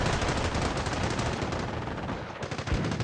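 Mortar squad fire in the video game Company of Heroes Mobile, a dense, continuous barrage of rapid gunfire and explosive thuds with no pauses, moderately loud.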